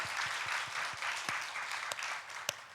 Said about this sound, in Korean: 우리 박수로 감사하겠습니다.